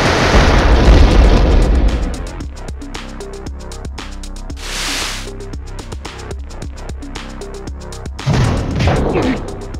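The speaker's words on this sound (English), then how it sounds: "This explosive box will explode when you break it." An explosive box blows up in the 1998 Atlus game Trap Gunner, a loud booming burst at the start that fades under a string of sharp game hits and pops, with another blast near the end.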